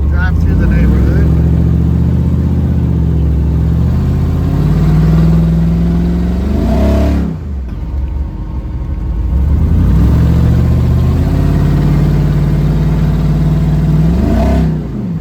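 A custom Ferrari 4x4 build with something rattling up front drives through a neighborhood, its engine a steady loud drone that rises and falls as it accelerates, with two brief dips where it eases off.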